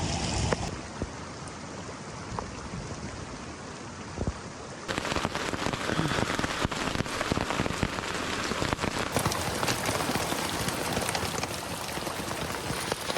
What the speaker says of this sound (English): there's thunder and heavy drops of rain about to come in.